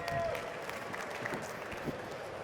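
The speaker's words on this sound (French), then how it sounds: "On applaudit Beslem, s'il vous plaît." An audience claps for a fighter at a Japan Expo sports stage event, a brief, moderately faint burst of crowd applause with a murmur of voices underneath.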